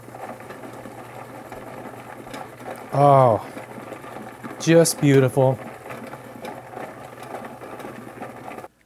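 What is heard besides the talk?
rock tumbler running with a heavy barrel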